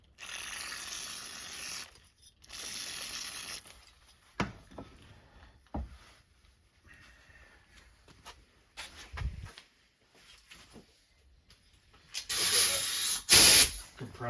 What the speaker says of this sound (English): Just get some brake cleaner and give her a squirt.